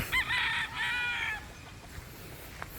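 A Boston stag, a young pure-bred early-maturing rooster tethered in a yard, crows twice in quick succession, loud and close, followed by quiet outdoor background noise.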